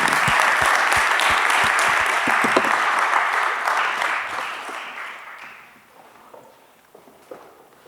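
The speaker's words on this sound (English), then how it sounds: "Can we give them a round of applause," A conference audience applauds a panel at a digital health session, brisk clapping with a few sharp close claps near the start, steady for about five seconds before thinning and fading to scattered claps.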